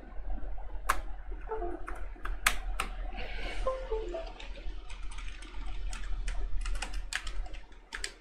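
Keys pressed on a computer keyboard that seems locked: a steady run of close, crisp clicks and taps over a low constant hum, with no voice.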